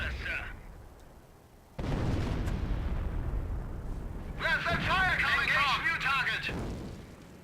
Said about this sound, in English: Especially with this mortar coming down.